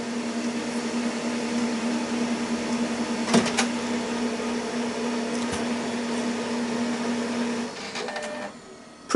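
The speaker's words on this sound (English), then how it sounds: "Oh, it's printing something." A Samsung CLP-680ND colour laser printer runs a test sheet with a steady whirring hum, punctuated by a few sharp mechanical clicks and clunks, then the motor winds down near the end.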